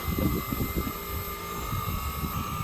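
A steady whooshing fan hum with a constant tonal whine and low rumbling pulses from a Voltas inverter air conditioner outdoor unit, close and continuous with no talking.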